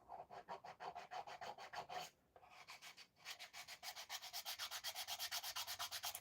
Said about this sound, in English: We'll have to go around here, I think, with an actual piece of sandpaper.